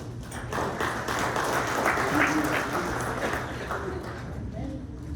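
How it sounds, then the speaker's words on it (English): A crowd at a city's annual mayoral update claps steadily for about five seconds, a dense, even wash of applause with some voices mixed in. "Let's give her a round of applause."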